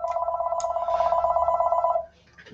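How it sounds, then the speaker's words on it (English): A telephone bell rings in an office in a steady rapid trill for about two seconds and then stops, loud and near, with faint room noise afterward. "Forgive that phone. I'm in the office."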